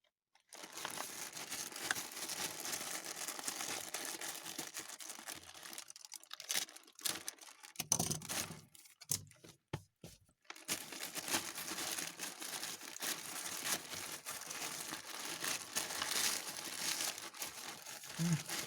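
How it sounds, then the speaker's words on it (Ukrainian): Plastic parcels from China being opened: close, crisp crinkling and rustling of plastic packaging with tearing bursts, nearly continuous apart from a few brief pauses, quiet overall. "Чергові посилки від китайців. Будемо відкривати."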